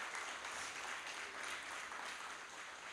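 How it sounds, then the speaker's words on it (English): A round of applause from the audience at a B Mitzvah ceremony, steady dense clapping that sounds quiet and distant throughout, with no talk over it. "we should have a round of applause again for all of these amazing speeches and our students"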